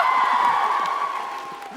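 A panel audience at TwitchCon's LGBTQIA+ panel cheers and whoops in a loud, sustained crowd roar that stays steady and slowly tapers toward the end.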